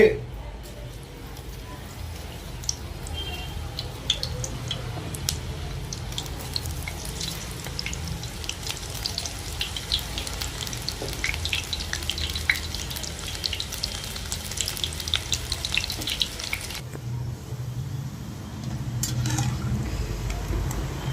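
Meal maker soya chunks deep-fry in hot oil on a stove, a steady crackling sizzle running throughout, with a brief pause near the end and quiet speech at moments.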